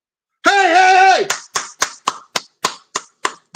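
A brief shouted voice, then about eight sharp hand claps in a steady, even rhythm, close and loud.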